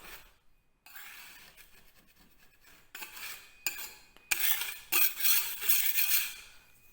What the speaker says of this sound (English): So just simply scrape them off.